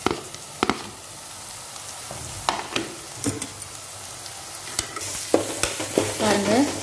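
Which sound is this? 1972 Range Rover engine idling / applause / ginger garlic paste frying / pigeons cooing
ginger garlic paste frying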